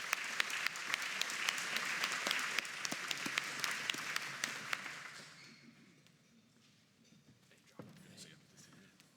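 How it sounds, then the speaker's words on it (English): Audience applause greets an invited guest, the Ottawa Senators president, walking up to the stage at a morning social event; dense clapping fills the first five seconds, then thins out and fades to scattered claps. "Always terrible to be on a delayed clap coming up to the stage"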